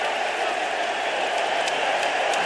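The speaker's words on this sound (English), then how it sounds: "and the crowd erupts" NBA basketball arena crowd erupting during a pushing-and-shoving scuffle between players, a loud, continuous roar of cheers and applause with no break.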